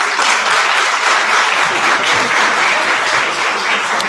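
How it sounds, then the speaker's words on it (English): Sustained applause from a workshop audience at a business monetisation event in Edendale/Imbali, dense steady clapping filling the room from start to finish, loud and close, with no speech over it. "Give them another round of applause."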